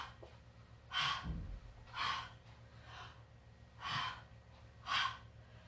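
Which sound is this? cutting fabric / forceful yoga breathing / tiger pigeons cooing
forceful yoga breathing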